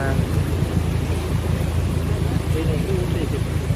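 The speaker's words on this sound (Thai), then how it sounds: "ฝนก็ยังตกโปรยปลาย ไม่มีทีท่าว่าจะหยุดพักเลยนะฮะ" Rain falls at night beside a fast-flowing flood current, a dense, steady rushing wash of water and rainfall close by.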